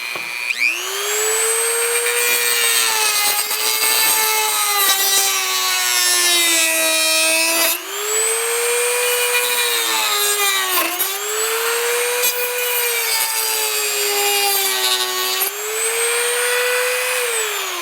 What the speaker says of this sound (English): we're just going to take our Dremel, but you can use a hacksaw or something like that, just to easily take these tabs off the back of this cover here